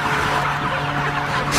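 A dense, continuous chorus of many chickens clucking together in a lit poultry barn at night, steady and fairly loud with no pauses.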